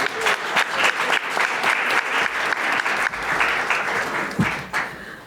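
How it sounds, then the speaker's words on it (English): A conference audience of faculty and staff at a keynote kickoff event breaks into loud sustained applause, many hands clapping in a dense continuous roar that stays strong through the clip with a few louder bursts. "Give yourselves and each other a huge round of applause"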